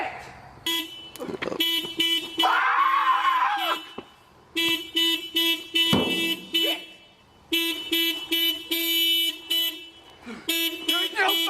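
A car horn beeps repeatedly in loud, sustained bursts separated by short gaps, close by, with shouting voices breaking in between the honks.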